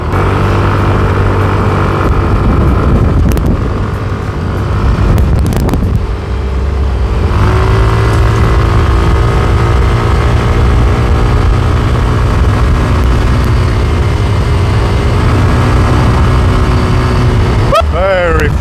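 A Yamaha GT125 scooter, damaged in an earlier crash, rides along with its engine droning steadily, the tone rising and falling through several accelerations and a brief dip, with wind noise over the ride and a closing sweep near the end.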